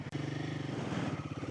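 A Royal Enfield Himalayan 450 motorcycle engine thrums steadily off-road, a close, low pulsing drone with a brief dip at the start, no talk.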